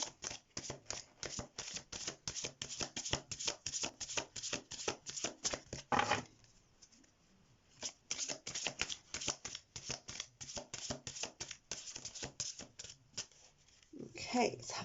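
Tarot cards being shuffled in rapid, continuous riffling bursts, broken by a pause and a final draw, close and fairly loud while a voice talks over parts of it.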